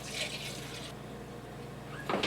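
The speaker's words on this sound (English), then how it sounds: "throw the water of cleaning them out into the slow cooker" Rinse water from cleaned food cans is poured into a slow cooker, a hissing splash for about a second, then a quiet lull before another short splash close by.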